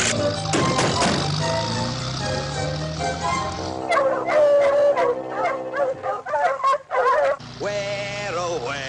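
Cartoon dogs howl and bark over a busy orchestral score, with long rising howls early on and sharper yips and barks toward the end.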